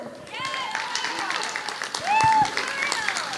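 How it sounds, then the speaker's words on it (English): Crowd applause and cheering for a guest at a My Hero Academia voice actor panel, clapping and excited shouts from the audience mixed with voices and a whistle-like squeal. "Big round of applause."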